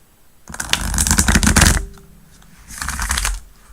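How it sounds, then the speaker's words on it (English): Tarot cards riffle-shuffled by hand during a live tarot reading, two close, crisp bursts of rapid fluttering card snaps separated by a short pause. "That was a good shuffle."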